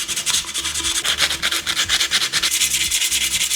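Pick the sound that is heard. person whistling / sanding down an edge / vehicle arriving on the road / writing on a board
sanding down an edge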